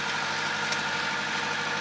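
A sailboat's motor drones steadily and evenly at sea in calm, windless conditions, a continuous close engine hum with no voices.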